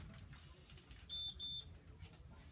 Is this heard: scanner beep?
yes